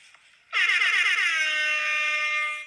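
After a short near-silence, a single blaring air horn kicks in and sounds continuously at full volume for about two seconds.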